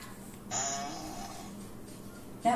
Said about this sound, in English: That was a wet and squeaky one.